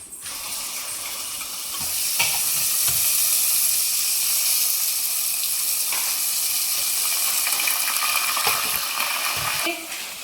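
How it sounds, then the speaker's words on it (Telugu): Whole spices frying in hot oil in a pan for chicken curry, a loud, continuous close-up sizzle and hiss with occasional faint scrapes of stirring. "ఓకే సో మనం మసాలాస్ అన్ని ఆయిల్లో వేసుకొని ఇవి ఫ్రై అవుతున్నాయి"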